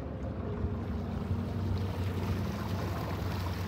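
Sailboat under wind power leaving a bay in the Buccaneer Archipelago, a steady rush of wind and water around the hull, close and continuous with no voices.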